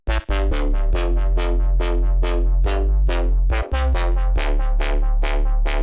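A loud, buzzy distorted synth bass plays a rhythmic sequence of punchy, decaying notes with deep low-end, repeated steadily with a brief gap in the middle.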